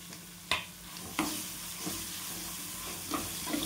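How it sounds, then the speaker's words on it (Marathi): Onion sautéing in a pan for upma, a soft steady sizzle with a few sharp clinks of a spoon or spatula stirring against the metal, close by and without talk. "परतून घ्यायचा आपल्याला कांदा पण."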